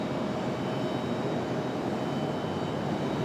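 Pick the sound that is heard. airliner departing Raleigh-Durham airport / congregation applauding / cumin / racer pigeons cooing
airliner departing Raleigh-Durham airport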